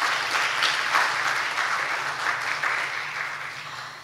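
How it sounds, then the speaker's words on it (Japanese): Steady, even applause from attendees at a national mountain-accident prevention council conference, a continuous wash of clapping with a faint low hum underneath. "改めて拍手をお願いいたします。"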